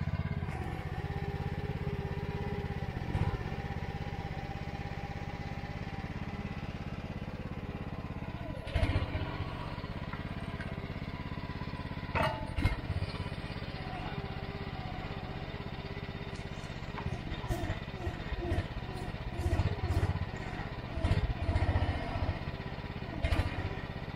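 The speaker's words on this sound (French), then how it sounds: "C'est fou la puissance de ce moteur quand même." A powerful excavator engine runs steadily at a fair distance while it clears an access path to a mill race and dam, a low continuous drone broken by occasional metallic clanks and knocks.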